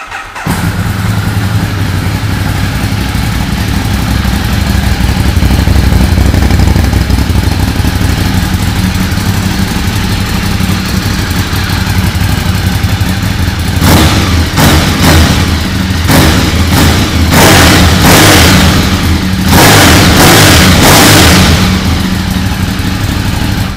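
A Ducati 848 L-twin sport bike on its stock exhaust idles loudly and steadily up close, then gets a run of sharp, repeated throttle blips toward the end, with no talk over it.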